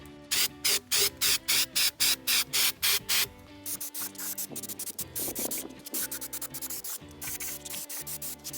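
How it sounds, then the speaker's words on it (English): Paint stripper is sprayed onto the rusty frame of a 1980 Toyota pickup: about eight short, sharp hissing bursts in a quick rhythm, then a longer, steadier spray mixed with scraping, close and loud. "Now I'm spraying any remaining areas that still have paint on them with some paint stripper."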